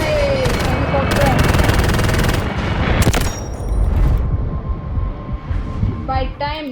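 Bursts of machine gun fire rattle in the video game Delta Force, with rapid repeated shots, a sharp blast and booming explosions amid battle noise, loud and close, trailing into quieter chatter.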